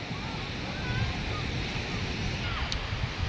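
Sea waves washing in at Kunkeshwar beach in Konkan, a broad continuous surf roar with gentle swells, mixed with wind buffeting the microphone and faint crowd murmur in the distance.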